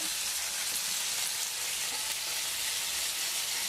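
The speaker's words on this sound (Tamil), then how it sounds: "ஒரு ரெண்டு தக்காளி சேர்த்துக்கிறோம் நல்லா வதக்கணும்" Two tomatoes sauté in a pan for onion chutney, keeping up a soft, even sizzle throughout with no pauses, heard close but fairly quiet.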